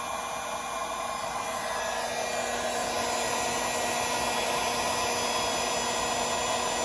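A heat gun blows steadily at close range while shrinking heat shrink tubing on vehicle battery wiring, producing a constant loud airy whoosh with a steady motor whine throughout.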